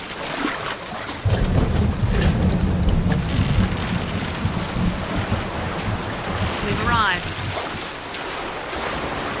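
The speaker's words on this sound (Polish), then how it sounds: "Trochę tutaj pada deszczyk." Steady rain and rumbling thunder fill a boat ride toward a lighthouse in the video game BioShock Infinite, a loud continuous wash of downpour with a deep low rumble rolling through the whole stretch.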